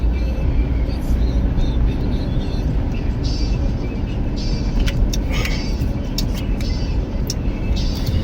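A car drives along the road with a steady, broad engine and tire rumble heard from inside the cabin, accompanied by small intermittent rattles and clicks.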